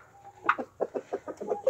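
Chickens and a rooster cluck close by in a farmyard coop, a quick run of short, rhythmic clucks and calls over a quiet background.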